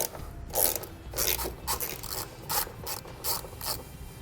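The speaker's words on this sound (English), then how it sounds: "I'm using a 10 millimeter socket to pull it out." A hand ratchet with a 10 mm socket backs out a bolt on a 2017 Ford F-150 during mud flap fitting, rapid clicking bursts in an uneven rhythm, close and clear with no voices.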